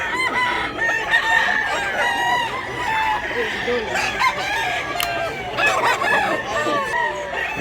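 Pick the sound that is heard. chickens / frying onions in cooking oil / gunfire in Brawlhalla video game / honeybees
chickens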